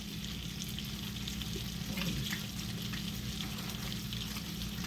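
A burger patty fries and is basted in a pan, making a continuous close sizzle with soft spattering and crackling at an even level.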